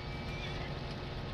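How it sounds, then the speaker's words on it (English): A big herd of horses mills around in a Farming Simulator multiplayer game, making a dense, continuous wash of hoofbeats and movement with no clear breaks. "it's been taken over by a group of horses"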